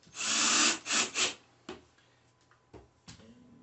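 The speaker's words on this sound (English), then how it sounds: "use your favorite hand tool to go ahead and tighten those down." Hand tool driving screws into a wooden toy kitchen: a few loud scraping, ratcheting turns up front, then softer scattered clicks and taps of the tool against wood.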